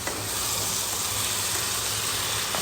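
Crab curry sautéing in a pan gives off a steady, loud sizzle and frying hiss, continuous throughout with faint stirring, and no one speaking.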